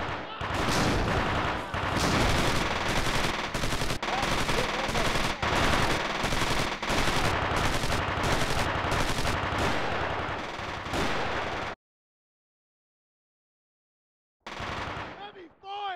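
Heavy, sustained gunfire in the 2003 video game Squad Assault: West Front: rapid, dense machine-gun bursts and rifle shots for about twelve seconds, a brief silence, then firing resumes.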